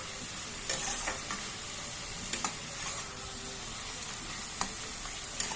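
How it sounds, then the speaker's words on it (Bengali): Mushrooms fry in a pan over a high gas flame, giving a soft, steady sizzle with occasional sharp clinks and scrapes from stirring. "মাশরুমটা একটু ভালো করে ভেজে নিলাম"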